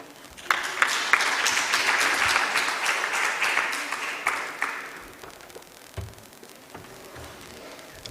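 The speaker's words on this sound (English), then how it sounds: "Another round of applause for an all-female team." A burst of audience applause for a panel at an investment conference swells quickly, holds for about four seconds, then thins out into a few lingering claps and room noise.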